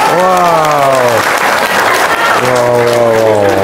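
Applause from an Indonesian talk audience, loud and close, a steady wash of clapping overlaid by sustained tonal voices or music that drop out midway and return.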